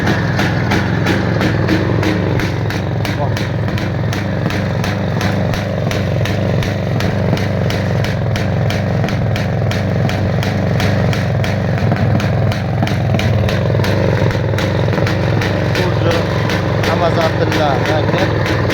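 A Planeta 5 motorcycle engine runs loud and close, its rapid steady two-stroke putter holding at a fast idle the whole way through without a break, with talking mixed in underneath.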